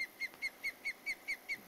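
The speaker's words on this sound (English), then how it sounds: "A noisy bird. It's not even a nice noise." A bird in the Florida Everglades setting of the Fishing Planet video game repeats a whistled call about eight times in an even, steady rhythm, clear and moderately loud with no speech.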